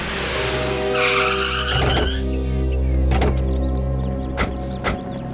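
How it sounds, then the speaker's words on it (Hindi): A car braking to a halt in a crime drama scene, with a loud engine hum, a tire skid and sharp thuds close by, and no speech. "बस सर गाड़ी रोक दीजिए यहीं पे सर।"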